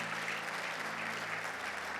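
A church congregation at a Spanish-language service claps for the Lord: dense, steady applause fills the room for the whole stretch, with no voices over it.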